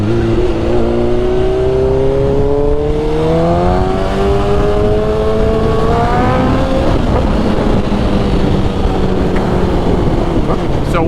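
A motorcycle engine drones steadily while riding, loud and close, its pitch rising through the gears with wind rush over the top.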